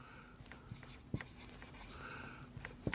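A pen scratches figures onto paper while an accountancy problem with bad debts is worked through, soft irregular strokes and taps, quiet and close, with no talk over it.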